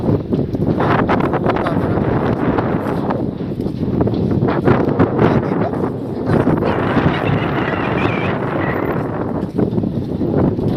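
Steady outdoor wind in Cozumel, Mexico buffeting the microphone, a continuous low roar with gusty rumbling throughout and faint voices mixed in.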